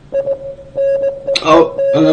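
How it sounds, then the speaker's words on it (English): Short electronic tones repeat in an uneven on-off pattern like Morse code, loud and close, from the Operation: Takedown video game mod, with a burst of other sound breaking in near the end. "Oh, another Morse code."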